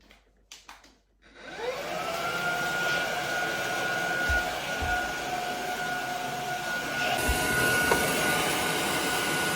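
A budget vacuum cleaner starts up after a few clicks and then runs steadily with a loud, even whine and airy roar, close by, with a slight rise in intensity near the end.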